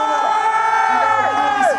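A crowd cheering and whooping for rally driver Sébastien Loeb as he arrives in the number 1 car, short bright shouts and applause rising over a steady roar, close and loud.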